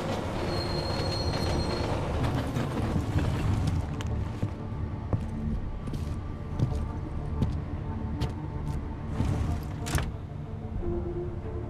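A train in Deus Ex: Mankind Divided rolls in and moves along with squealing wheels, rattling cars and rumbling, continuous and fairly close throughout.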